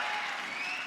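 Audience applause at an All India Mushaira poetry gathering in Latur, a continuous wash of clapping heard from a distance, fairly soft and even throughout the brief moment.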